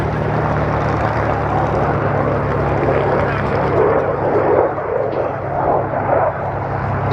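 An F-35A fighter jet makes a low pass at an airshow, its steady, loud roar filling the air continuously without fading.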